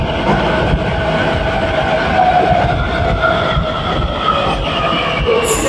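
A metro train pulls into a quiet Kharghar station platform with a loud, steady rumble and a faint whining tone, the wheel and motor noise holding evenly throughout before a brief high squeal at the end.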